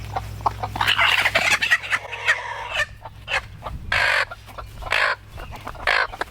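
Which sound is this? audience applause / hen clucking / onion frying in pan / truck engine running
hen clucking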